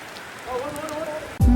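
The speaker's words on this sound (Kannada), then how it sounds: "ಅದು ಮಳೆ ಬರ್ತೈತೆ" Rain falling, a steady close patter of drops on a surface, even and unbroken, with a faint tonal sound in the middle and a sudden low thump at the very end.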